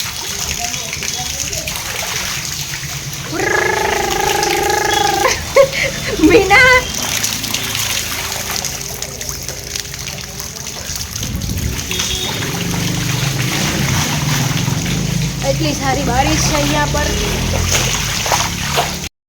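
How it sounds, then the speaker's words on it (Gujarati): Continuous rain with splashing and trickling water throughout, while people talk and sing at intervals over the downpour. "જોઈ શકો છો બારિશ કા પાણી"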